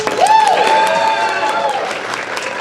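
Applause and cheering from a crowd, with a loud rising whoop over clapping that gradually settles.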